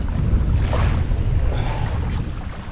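Strong wind blows at a beach on Cayo Guillermo, Cuba, a steady loud roar buffeting the microphone, with surf blended underneath.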